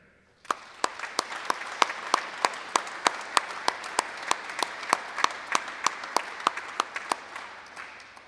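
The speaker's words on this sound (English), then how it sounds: "Please join me in a round of applause for all of the employers and our community members that support our soldiers." Audience clapping at a welcome home ceremony for Company C, 2nd Battalion, 285th Assault Helicopter Battalion, heard as a steady series of sharp, evenly spaced claps that runs for several seconds.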